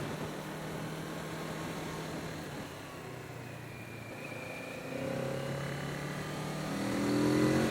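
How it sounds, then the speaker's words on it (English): Kawasaki Z650 (2020) motorcycle accelerating, a steady mid-pitched exhaust note heard from the rider's position under wind rush, rising in pitch and loudness toward the end. "That exhaust note, it's just so nice."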